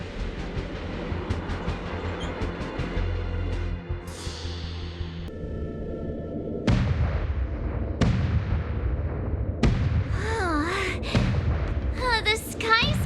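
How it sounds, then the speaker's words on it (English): Heavy booming gun salute from the Sky Splitter in the game Honkai: Star Rail, several loud blasts with sharp onsets and decaying rumbles stacked over a busy game soundtrack, with a voice talking in the mix. "The Sky Splitter's gun salute is really loud."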